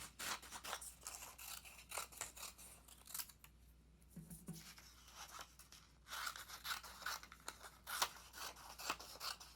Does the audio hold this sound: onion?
no